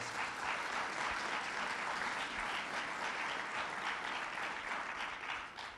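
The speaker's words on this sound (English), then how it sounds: "let's give them a round of applause" A crowd applauds at a New York governor's speech on his first hundred days in office, a continuous, even wash of clapping that lasts nearly six seconds and eases slightly at the end.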